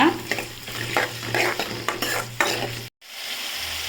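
Siru keerai greens being stirred and sautéed in a hot pan for chutney, a steady sizzle broken by repeated scraping stir strokes, close and loud, then a brief cut to near-silence before the frying resumes.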